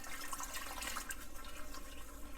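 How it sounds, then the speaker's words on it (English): Water being poured and stirred into a cornstarch mixture for lemon meringue pie filling makes a faint, continuous liquid splashing and swirling, steady throughout with no talking. "We're going to gradually stir in some water here."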